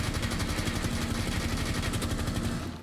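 Thatcher's assault rifle in Rainbow Six Siege firing full-auto, a rapid, evenly spaced stream of loud close shots sustained almost the whole time before cutting off at the end.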